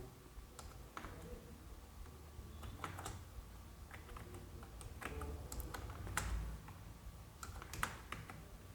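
Computer keyboard keys typed in short bursts of clicks, entering a GST number into accounting software, close and fairly quiet against a low room hum with no speech.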